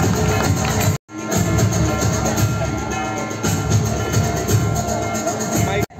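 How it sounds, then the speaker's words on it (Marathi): A crowd at a Women's Day prize-giving bursts into loud, dense applause for a woman winner, sustained clapping filling the space after a brief cut near the start. "ताईसाठी जोरदार टाळ्या"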